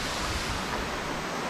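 Water runs steadily in a river resort shower room, a dense continuous hiss of spray with no voices over it.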